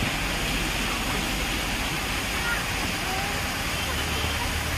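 A loud, constant roar of falling water fills the whole clip, dense and unbroken like a nearby waterfall, at Malshej Ghat in the monsoon.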